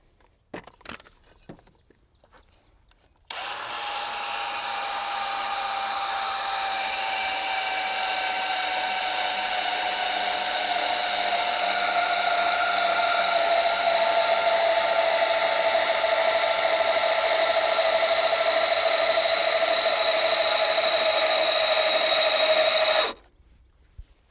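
A power tool near a Can-Am Defender being set up for lifting with an electric jack runs loud and steady for about twenty seconds with a high whining tone, then cuts off abruptly.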